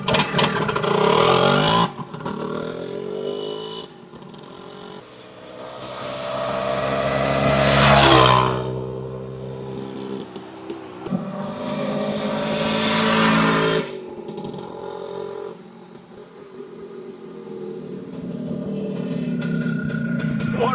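A 1975 Suzuki TS400 Apache two-stroke motorcycle engine revs up in several rising, buzzy swells, dropping back between bursts, fairly close and loud.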